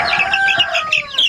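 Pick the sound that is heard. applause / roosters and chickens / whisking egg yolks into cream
roosters and chickens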